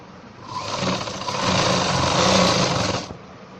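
Sewing machine stitching the side seam of a pair of ladies' pants, a steady close whirring run of about two and a half seconds with soft starts and stops.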